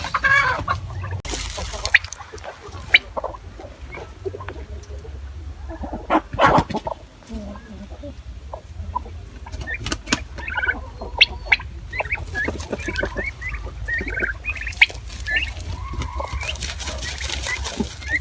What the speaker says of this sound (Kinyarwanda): Inkoko nyine nazo ziriyuhagira, na dendo ikiyuhagira.